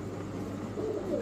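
Male Russian Bolgar pigeons give a soft, low coo that swells near the end over a steady background hum at a pigeon market.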